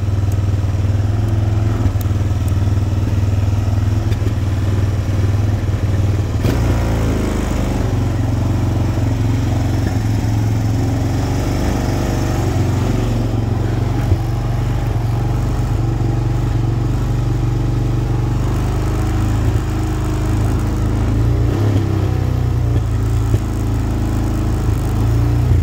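A Honda Recon TRX 250 Fourtrax ATV idles after a cold start at a slightly high idle. The engine throbs steadily and loudly up close for the whole stretch, with a faint mechanical clatter and no talking.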